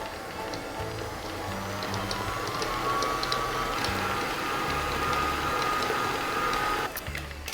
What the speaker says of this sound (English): turn it up to a medium speed and mix that for about another 60 seconds